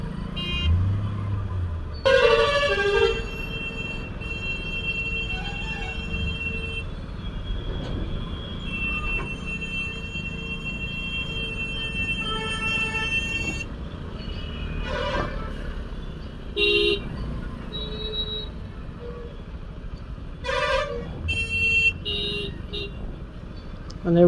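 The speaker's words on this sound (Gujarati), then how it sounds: "હોર્ન ઉપર બસ હાથ મૂકી દો એટલે તમને જગ્યા મળી જાય." Vehicle horns honk repeatedly in a congested traffic jam on the road to Kadi, with several short blasts rising over steady engine and road rumble.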